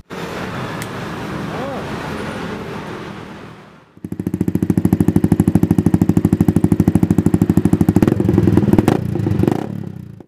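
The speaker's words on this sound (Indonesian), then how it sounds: "suara knalpot Yamaha Fuxion menggunakan knalpot full system stainless yang udah di custom ini" A Yamaha Vixion motorcycle converted to a custom scrambler, with a custom stainless full-system exhaust, idles with a loud, rapid, even burbling pulse, revving up slightly near the end; before it starts, a voice speaks over background noise.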